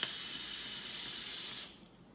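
A steady, loud hiss of vapor from a single-coil flavor RDA vape running at 40 watts on a 0.5-ohm coil, holding evenly for about a second and a half before cutting off and fading.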